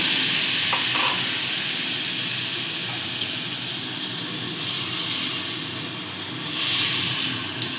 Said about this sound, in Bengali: সামান্য একটু জল দিয়ে দেবো, যাতে নিচে লেগে না যায়